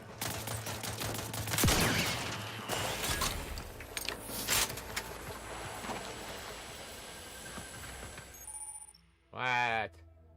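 A triple-barrel sawed-off shotgun firing in the video game The Outer Worlds 2, heavy blasts and clattering over a busy game mix, then quieting before a short burst of voice near the end.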